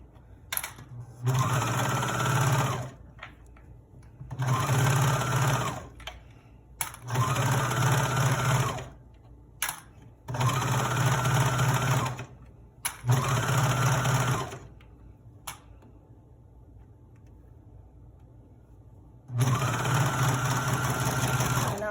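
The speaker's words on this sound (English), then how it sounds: "we're sewing the bodice, then we're gonna sew the pants, and then we're gonna attach them together" A sewing machine stitches a bodice in close, loud bursts of rapid whirring, about seven runs of two to three seconds each with short quiet pauses between them.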